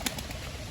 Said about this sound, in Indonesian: sekarang aku mau main merpati